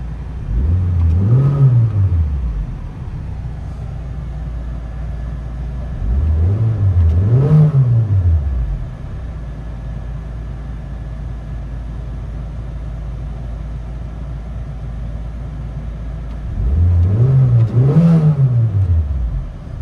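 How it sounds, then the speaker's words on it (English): A 1996 Mitsubishi Lancer Evo with its mid resonator deleted, heard from inside the cabin, revs up three times in rising and falling sweeps, loud and close, settling back to a steady droning idle between pulls. "'96 Mitsubishi Lancer Evo. Basically, mid-resonator delete."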